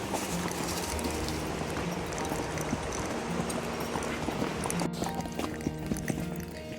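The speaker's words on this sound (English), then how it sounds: "This kind of rock is actually kind of tricky to cross over because it's harder for the horses to find their footing in." Hooves of a mustang clip-clop over a rocky mountain trail in Utah in summer, a steady uneven patter of hoof strikes on stone under constant outdoor noise, with no talking.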